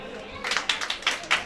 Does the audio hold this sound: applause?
yes